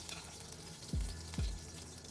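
Ginger, onion and garlic sauté in hot oil in a pan for a tuna jaw dish, giving a soft, steady sizzle with two brief low swooping thumps partway through.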